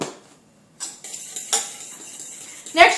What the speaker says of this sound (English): And then you can just stir that up.